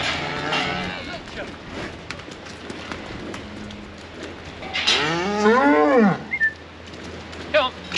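Cattle being moved from a shed, with several loud, close moos, one long drawn-out bellow standing out, over shuffling and background farm noise while people talk nearby.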